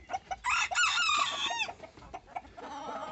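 Hens clucking inside a henhouse while a rooster crows loudly and close by, a long strained call followed by softer clucks and rustling; no talking.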